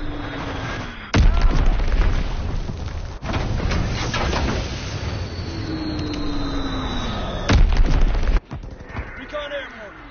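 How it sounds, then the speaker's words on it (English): Enemy bombs detonate in Call of Duty WW2 multiplayer, with two heavy, sharp booms several seconds apart cutting through continuous battlefield noise, rumbling engines, distant fire and a whistling descent. "Enemy bomb incoming."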